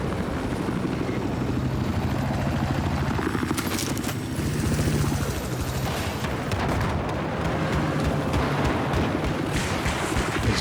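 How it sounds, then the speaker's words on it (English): A helicopter in a Battlefield 4 multiplayer match, its rotor thudding steadily and close, overlaid with bursts of gunfire and explosive crackles from the surrounding battle. "Back into the helicopter."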